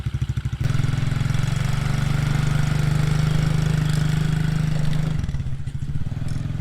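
Small Chinese TaoTao Coolster 110cc youth ATV engine running nearby, a steady loud idle with low chugging pulses that rises and smooths out after a second, then drops back to uneven sputtering near the end.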